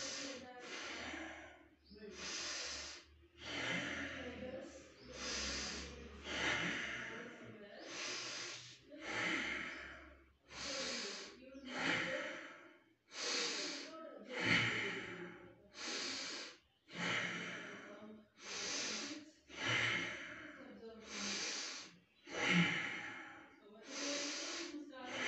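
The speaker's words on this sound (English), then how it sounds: "start deep breathing" A person lying prone breathes deeply over and over, each breath a loud, close, hissing inhale or exhale in a steady slow rhythm, with no talk.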